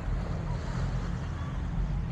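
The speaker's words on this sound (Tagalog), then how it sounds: "yung tunog ng ano, ng alon," Sea waves wash onto a beach in a continuous broad rush of surf, with wind buffeting the microphone and no distinct breaks heard.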